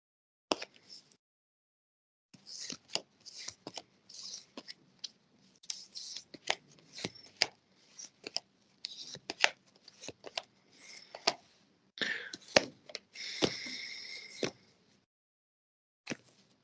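Tarot cards being shuffled and handled up close, quick bursts of riffling and soft slaps in an irregular rhythm, with brief pauses between them and no talking.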